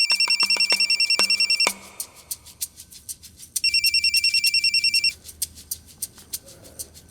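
A telephone rings in a quiet room with two bursts of rapid electronic trilling, each about two seconds long, separated by a pause and followed by fainter, spaced ticking tones.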